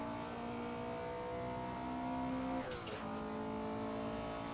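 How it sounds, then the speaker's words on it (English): Cockpit view from an AC WSC Legends race car at Riverside, with carburetor intake suction behind the driver's head at full throttle: a steady, loud engine drone with rising tonal harmonics, a brief burst near the end, and no talking. "You can hear the suction of the carburetors"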